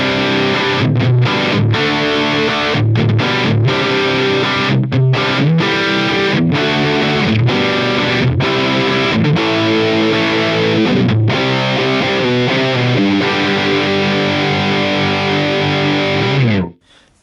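Heavily distorted electric guitar through a Bogner Shiva amp model in a Line 6 Helix, drive at 4, plays loud, gritty chords and riffs continuously, with saturated sustain, stopping abruptly at the end.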